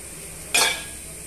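Ivy gourd pieces frying in a pan with a brief burst of stirring and sizzle, a single scrape that flares up then fades back to a quiet background hiss.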